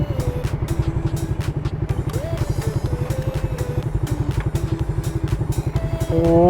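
A motorcycle at high speed, around 140, with a steady, close engine throb and rushing wind noise throughout, swelling slightly louder near the end.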